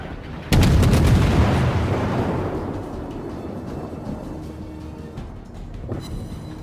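A destroyer Akatsuki fires small-caliber HE shells in World of Warships: one loud booming salvo with a sharp onset, then a long rumbling decay and faint follow-up shots.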